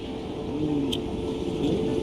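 A car, either a Tesla Cybertruck or a BMW, pulls away outside a hospice office in Los Angeles, giving a steady low engine rumble that swells slightly as it leaves, heard alone without talk.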